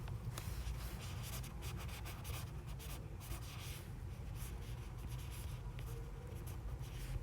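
A pen draws a diagram on paper in continuous close scratching strokes, steady and quiet, with a low rumbling background and no speech.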